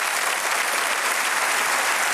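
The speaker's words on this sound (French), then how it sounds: "Applaudissements pour Jean-Claude Alavie" Dense, loud studio audience applause on a French television show, a continuous wash of many hands clapping without pause for a couple of seconds.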